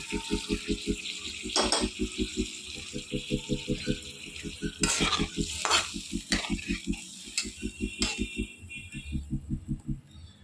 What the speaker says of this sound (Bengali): এবার আমি জল দিয়ে দিচ্ছি সাথে দুটো কাঁচা লঙ্কাও দিয়ে দিচ্ছি আর গরম মশলা দিয়ে দিচ্ছি